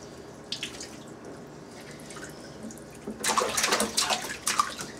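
Bath water splashing and running in a bathtub, with a quieter stretch of light water noise giving way to louder, sustained splashing and sloshing in the second half, close by and with no talk.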